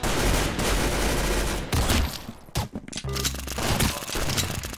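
Rapid gunfire in the Roblox shooter Arsenal, with bursts of sharp cracks and fusillades crowding most of the clip and a brief lull before the shots resume.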